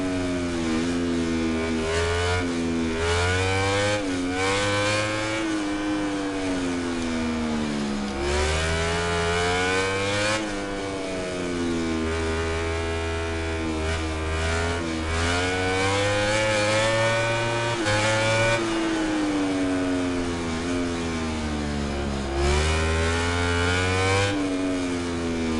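Engine of a racing motorcycle in MotoGP 19, continuously rising and falling as it revs hard through gear changes and corners, loud and unbroken throughout with no talking.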